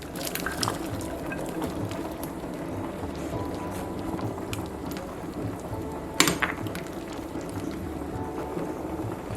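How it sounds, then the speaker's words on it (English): Jamaican beef soup with pumpkin boils in a pot, a steady hiss of dense bubbling and spattering that holds evenly throughout, with one brief louder pop partway through. "my soup has been boiling for a good 20 minutes"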